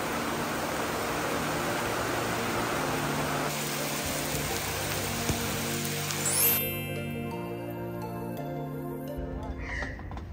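Rain falls steadily at an off-grid coastal campsite, a dense even hiss that carries on throughout and sits close by with no voices over it.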